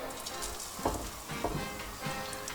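Courgettes going into clean vegetable oil in a pan over medium-high heat, giving a steady close sizzle with a few louder crackling bursts as pieces hit the oil.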